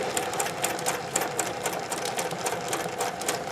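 A Singer 411G sewing machine fitted with a satin stitch foot runs steadily, its needle clattering in a fast, even rhythm, close and fairly loud with no talking.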